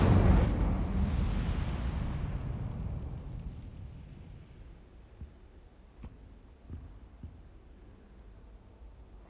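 Incendio fire spell cast in Hogwarts Legacy, a loud fiery burst that roars up at once and slowly dies into a crackling fade, with a few sharp pops near the end.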